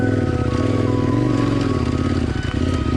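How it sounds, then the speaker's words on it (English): A KTM 1090 adventure motorcycle labors up a greasy, slippery trail hill, its engine roaring loud and continuous close by, with the revs rising and falling slightly. "trying to get the adventurous Alan riding his mighty 1090 KTM up this greasy hill"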